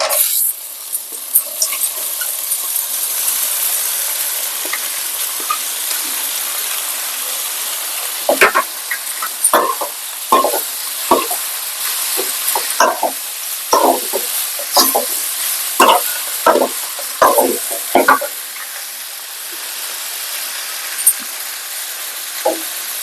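Mutton blood fries in a pan with ginger masala, giving a steady, close sizzle and hiss. A spoon scrapes and stirs against the pan in a run of sharp clicks.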